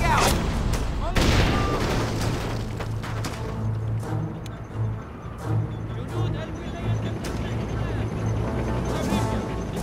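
Grenade launcher fire from an M203 in the squad combat video game Full Spectrum Warrior, a sharp boom early on amid ongoing gunfire bursts and explosions, with radio-style voices talking over the battle.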